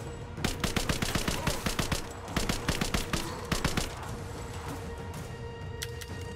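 Enemy gunfire in Rise of the Tomb Raider: rapid bursts of automatic weapon fire crackle loudly for about four seconds, then thin out to a few scattered distant shots over a low background hum.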